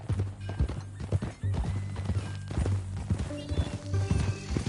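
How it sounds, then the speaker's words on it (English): Horse in the Red Dead Redemption 2 video game, with close clip-clop hoofbeats in an uneven rhythm and repeated whinnies and neighs, loud and near. "That new horse?"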